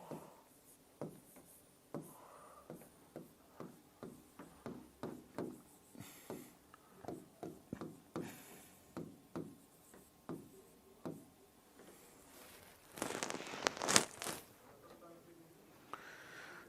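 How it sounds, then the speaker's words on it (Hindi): Chalk tapping and scraping on a classroom board as a maths question is written out, a steady run of sharp strokes at roughly one or two per second, with a longer scratchy stretch near the end and a voice speaking in between. "मैं जब तक प्रश्न वापस लिख रहा हूं।"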